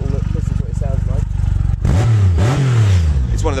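A Triumph Rocket 3 Roadster motorcycle engine with a 3-into-2 exhaust revs up loudly and close, a deep rising growl following a steady idle rumble.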